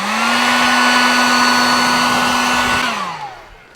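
A heat gun blows steadily at a constant whine for about three seconds, shrinking heat shrink tubing over an exposed wire during a BMW M3 brake install, then winds down as it switches off.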